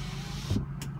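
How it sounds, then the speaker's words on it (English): The power sliding rear window of a 2006 Ford F250 runs with a steady, quiet electric motor whir and hum, ending in a brief soft thump as it stops. "Sliding rear window."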